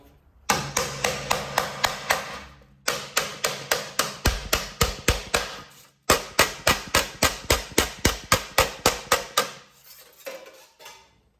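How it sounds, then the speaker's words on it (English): A wooden mallet taps rubber repeatedly in quick, even bursts of sharp knocks, pausing briefly between rounds, close by with no talking. "you're just gonna take the wooden hammer"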